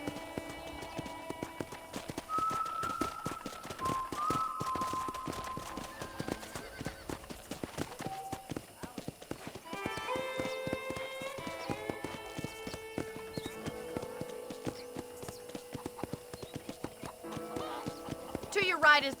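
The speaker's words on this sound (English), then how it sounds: "let's see if you can still ride a horse" Rhythmic clip-clop of horse hooves running throughout in the video game Red Dead Redemption, with an occasional whinny and musical tones layered over the galloping beat.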